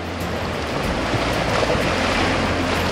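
Sea waves wash steadily onto the shore of a stunning Italian coastline near a campsite, a continuous broadband surf rush with light wind, fairly loud and close, no talking.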